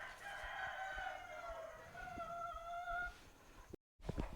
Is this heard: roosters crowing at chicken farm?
yes